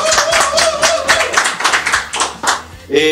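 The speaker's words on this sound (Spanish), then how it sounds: "Así que le damos un gran aplauso a Daniel Mora, que se viene a sentar acá." A late-night talk show's studio audience bursts into a full round of clapping, loud and dense for about three seconds, with a voice and a brief tone near the end.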